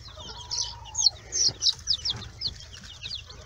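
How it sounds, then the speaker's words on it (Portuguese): Dozens of chicks cheep continuously in a brooder, over forty young chickens together with a single quail, their high overlapping peeps close and busy, with occasional sharper louder calls and no talking. "É pintinho pra caramba."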